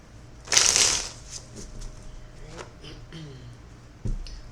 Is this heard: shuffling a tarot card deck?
yes